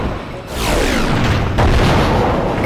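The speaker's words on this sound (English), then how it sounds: "Oh, it's a cannon!" A cannon in the video game Final Fantasy Crystal Chronicles fires with heavy, booming blasts during a boss fight at a house, two loud explosive hits rolling into sustained rumble.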